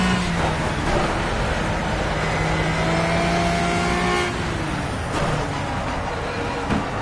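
A Pagani Zonda Revolucion roars on the Nordschleife in Project Cars, its engine loud and continuous, with rising and falling pitch through gear changes and acceleration and no pause in the noise.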